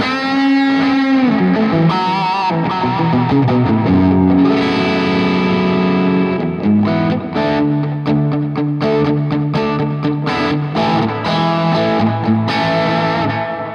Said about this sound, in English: But when I have like a tube tape delay in front of me,